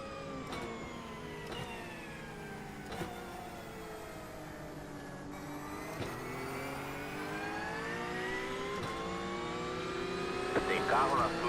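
A group of faster race cars approaching and sweeping past in the 24 Hours of Daytona, a racing video game, a sustained engine whine rising and shifting in pitch, with short clicks and a building roar near the end.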